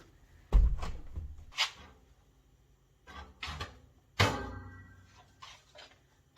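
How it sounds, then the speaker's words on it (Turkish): A window being shut during a home cleaning session, giving a few sharp knocks and thuds of the frame and latch, with a heavier clunk near the end, all close and separated by quiet pauses. "Camımı kapatayım."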